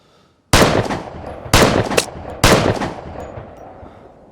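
Three loud, sharp gunshots in the Vigor video game, about a second apart, each leaving a ringing tail that fades slowly; no voices.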